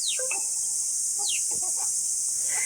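At a village chicken market, chicks let out several short, high peeps against a constant shrill insect-like hiss, with faint clucking in the background.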